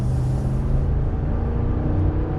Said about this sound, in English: we're getting on the highway. So we're gonna do a little acceleration.